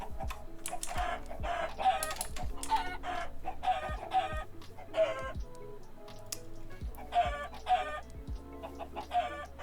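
Chickens in a video game cluck rapidly and squawk in repeated bursts while being attacked, with steady low thuds from hits and clicking keyboard keys under the loud, continuous clucking.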